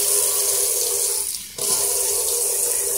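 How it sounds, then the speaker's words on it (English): Tap water runs steadily into a cup while a diffuser is being cleaned, a continuous close hiss with a short dip near the middle as the flow shifts, then resumes at full strength. "So I'm going to take my cup again. Fill it up."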